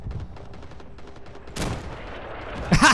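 A shotgun blasts loudly in the Vietnam War shooter Rising Storm 2: Vietnam, with one heavy shot partway through and another burst at the end, while distant gunfire crackles throughout the battlefield.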